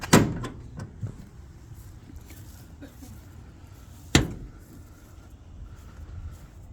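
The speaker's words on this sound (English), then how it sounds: "you can swing this door all the way around and it locks into place there" The rear door of a 2023 Ford Transit van swings fully open and locks into place, giving a sharp metallic clunk at the start and a second solid latch thump a few seconds later over low background rumble.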